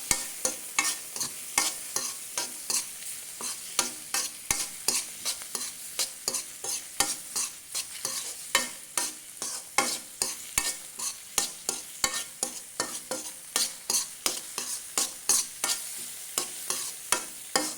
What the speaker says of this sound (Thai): ผมก็ใส่แฮมใส่พริกไทยดำลงไปครับพัด